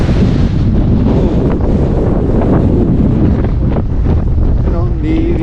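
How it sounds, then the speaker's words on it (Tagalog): Strong wind on the Mt Timbac mountain summit pounds the microphone in a loud, constant rumbling buffet, with a faint voice briefly audible near the end. "nililipad ako ng hangin"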